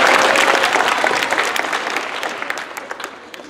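Middle school students at Wilson Middle School clap and cheer for a runner, a dense loud burst of applause that gradually thins into scattered individual claps.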